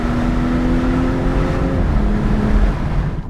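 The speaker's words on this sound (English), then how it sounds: "This car is a lot of fun to drive." A BMW M240i's engine drones loud and steady while the car is driven, a sustained harmonic note that drops slightly in pitch partway through, with no voices.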